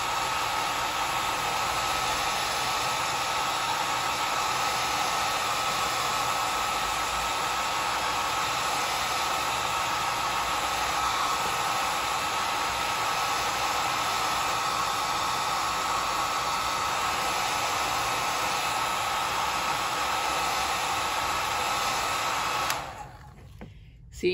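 A hair dryer blows steadily for over twenty seconds, drying metallic fabric paint applied through a stencil on black cloth, a loud constant whoosh that cuts off abruptly at the end.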